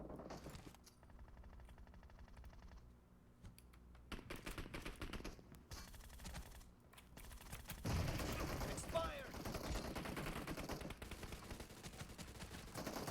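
Gunfire in the mobile battle royale game PUBG Mobile: rapid automatic bursts and mechanical clatter of weapons, growing louder and denser toward the end, with a player talking over it.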